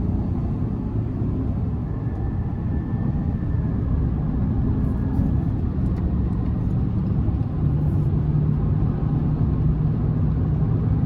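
A 2024 Chevrolet Silverado 1500 LT Z71 pickup with the 5.3-liter V8 accelerates from the cabin, a steady low engine rumble and road roar that swells slightly as speed builds.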